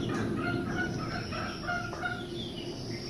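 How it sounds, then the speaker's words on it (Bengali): Pakistani cock chickens at a poultry farm, several birds clucking and calling over a steady, busy flock murmur, fairly close and continuous throughout. "বিহার মুরগি, মানে পাকিস্তান কক মুরগি, ডিম পারে।"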